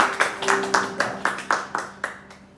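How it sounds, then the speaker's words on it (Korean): A church congregation claps during a Sunday worship service in a slow, even rhythm of about nine or ten distinct claps, with sustained musical tones lingering underneath. "우리 하나님께 영광의 박수 드리겠습니다."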